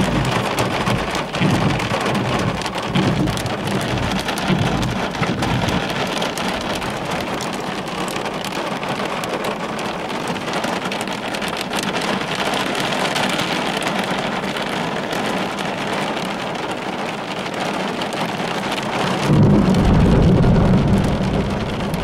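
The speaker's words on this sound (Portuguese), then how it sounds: "Neste momento começa a cair granizo." Hail and heavy rain pour down during a thunderstorm, a dense steady roar of impacts with low rumbles, loud and continuous without talk.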